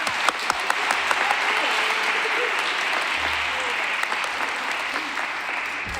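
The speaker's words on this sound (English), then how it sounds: "You can give him another round of applause" Congregation applauding a child singer from a children's choir at an Erev Shabbat service, steady dense clapping that fills the room for several seconds, close and fairly loud, with faint voices underneath.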